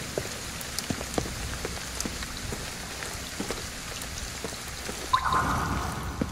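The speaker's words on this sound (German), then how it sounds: "Endlich wieder Regen." Steady rain pours in the Ghostwire Tokyo game, a dense even patter with scattered drop splashes throughout and a brief tonal sound rising near the end.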